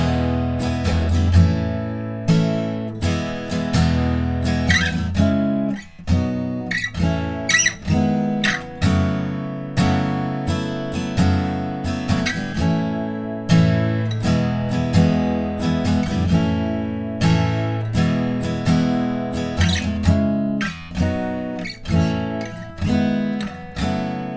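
A guitar strums the chorus chords of a song in a steady, full down-up rhythm, close and continuous for the whole stretch, with no voices.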